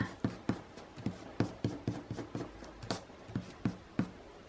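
Pencil sketch marks are erased on paper with quick, repeated rubbing strokes, about a dozen close soft scuffs in a brisk irregular rhythm, with no talking.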